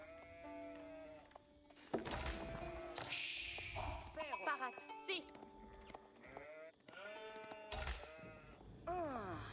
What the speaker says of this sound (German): wie viele Schafe sind hier am Anfang bei der Map?